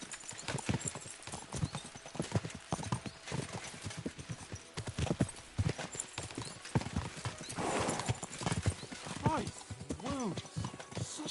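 Horses gallop in the Kingdom Come Deliverance 2 video game, their hooves clip-clopping in a fast, steady rhythm under spoken dialogue, with a brief whinny.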